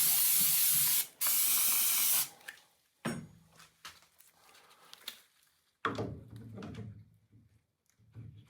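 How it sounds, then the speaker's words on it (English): Oil spray hisses onto a tool room lathe under repair in two long aerosol bursts, followed by a few scattered metallic clunks and handling knocks at close range. "Just some oil spray for now."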